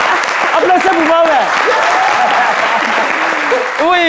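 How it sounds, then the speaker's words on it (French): A studio audience at a French midday TV show bursts into loud, sustained applause and cheering for a guest, with voices shouting and calling out over the clapping throughout. "Applaudissez pour moi"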